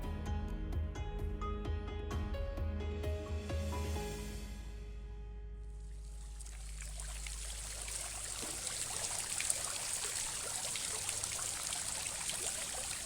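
Water flowing where the Cifuentes river meets the Tajo at Trillo, a steady rushing, trickling wash rising in as music fades out during the first seconds, then continuing evenly and close for the rest.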